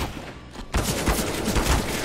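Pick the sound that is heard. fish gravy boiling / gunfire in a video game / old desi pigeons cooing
gunfire in a video game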